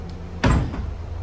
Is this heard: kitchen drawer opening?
yes